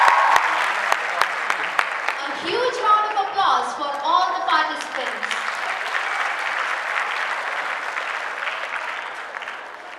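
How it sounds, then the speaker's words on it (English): Audience applause for junior debate participants at a school competition, dense clapping throughout with a voice speaking over it in the middle, then the clapping tapers gradually. "A huge round of applause for all the participants."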